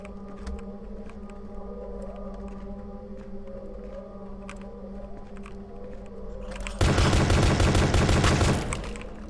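Gunfire in the horror game Dread X Collection: Pony Factory, a dense loud rapid volley erupting for about two seconds over a droning ambient hum and scattered clicks.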